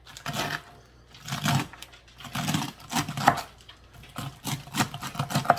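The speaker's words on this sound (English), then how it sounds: "Cut all these stems and that up a little bit farther so that they can cook down real good." A knife chops through beet green stems on a cutting board in short bursts of quick, crisp knocks separated by brief pauses, close and fairly quiet, with no talking.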